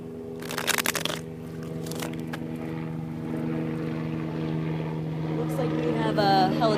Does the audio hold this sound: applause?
no